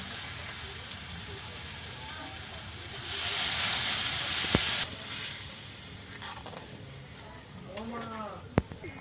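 Water poured into sizzling fried spice paste in a hot pan while cooking doi koi, a Bengali fish curry with yogurt, gives a loud hissing burst of steam over steady background frying noise.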